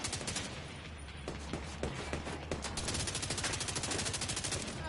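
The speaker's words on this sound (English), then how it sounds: "Some of these shots in this game are weird." Gunfire in the shooter The Division 2: rapid automatic bursts and scattered single shots crackle in a dense, fairly quiet fusillade, the rhythm quickening into a steady rattle toward the end.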